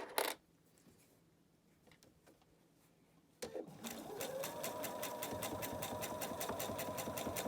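A sewing machine stitches through fabric pieces for a Halloween project box, starting after a quiet pause and then running in a fast, steady, close mechanical rattle to the end.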